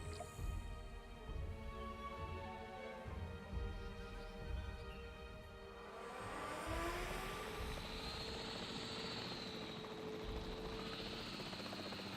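Capture team helicopter in a video game, a loud steady rotor thrum and turbine whine that swells as it approaches and holds close, mixed with game music and ambience.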